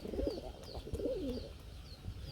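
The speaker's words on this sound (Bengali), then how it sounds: "দেখতে পাচ্ছেন গুমুর গুমুর ডাক" Pigeon cooing nearby, two soft rolling coo phrases in quick succession over faint background noise.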